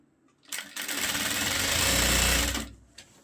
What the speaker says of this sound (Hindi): क्योंकि मैं 1/2 इंच की सिलाई लगा रही हूँ